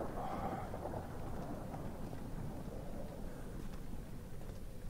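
Thunder in the horror video game Amnesia rolls as a continuous low rumble for the whole stretch, loud and steady, with a rain-like hiss layered on top and no talking.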